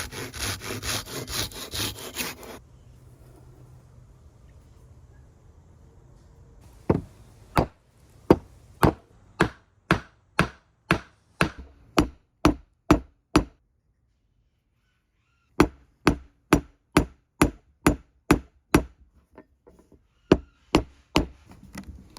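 A hammer drives a square wooden peg through a steel dowel plate to round it into a dowel, giving sharp, evenly spaced knocks in two runs of about a dozen blows each, close and loud with a short pause between the runs.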